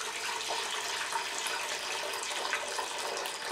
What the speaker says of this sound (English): All right, so I'm going to put that in the pot here.